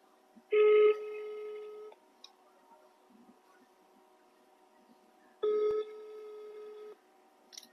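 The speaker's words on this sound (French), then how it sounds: "Je l'appelle sur la ligne normale." Two ringback tones sound on an outgoing phone call, each a clear steady electronic tone lasting over a second and separated by silence, heard close and alone.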